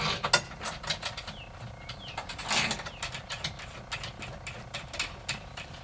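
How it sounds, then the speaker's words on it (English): Screws being driven back into a portable photo booth, a quick run of close, rhythmic ratcheting clicks and tool rattles with a brief scrape midway, no speech. "I'm just going to screw them back here."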